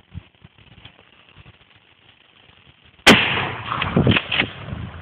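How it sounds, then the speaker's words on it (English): A 12 gauge shotgun fires one loud, sharp blast outdoors after a few quiet seconds, followed by a ringing, echoing tail and rustling noise. "Cock it and shoot just in case."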